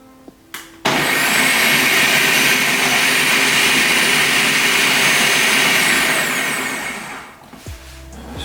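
A loud, steady whirring blender motor starts abruptly and runs continuously for several seconds before winding down, close and dominant, while making mayonnaise with Dijon mustard and oil.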